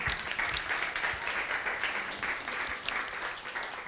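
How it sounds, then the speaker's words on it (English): A crowd applauds steadily, many hands clapping in a dense, even patter that carries on throughout. "Big round of applause for them."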